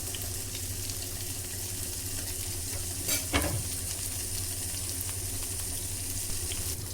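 Banana stem pieces frying in hot oil, a steady dense sizzle throughout with a brief louder clatter of stirring around the midpoint; no voices.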